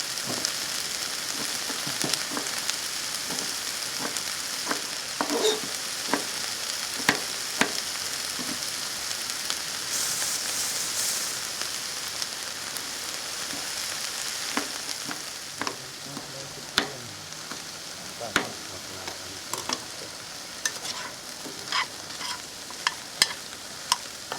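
A gammon steak sizzles steadily in a frying pan with oregano, a constant close hiss broken by scattered sharp pops and crackles, with no one talking.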